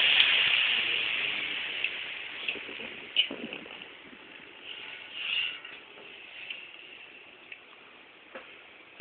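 An Eskimo 10-inch table fan spins down after being switched off, its soft whooshing whir slowly fading over several seconds, with a few small clicks and knocks along the way.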